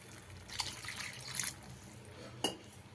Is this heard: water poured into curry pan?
yes